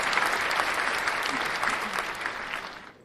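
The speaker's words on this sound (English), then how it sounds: "Can you hit that applause button for me real quick?" Canned applause rolls steadily through a show, a dense wash of clapping that holds level and then fades out at the end.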